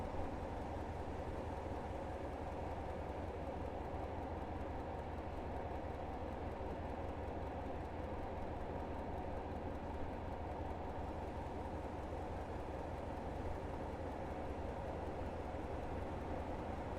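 A British Rail Class 47 diesel locomotive makes a steady, low, droning engine rumble that continues unbroken at moderate distance, with no voices.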